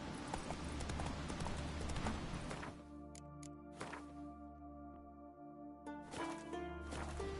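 Hoofbeats from Roach, a horse in The Witcher 3, clatter quickly for a few seconds, then give way to a quieter stretch of ambient game sound before picking up again near the end.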